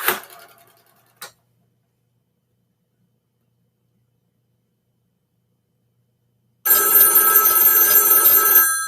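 An old telephone recovered from a house fire gives a couple of faint clicks, then after a long silence its bell rings loudly and continuously up close.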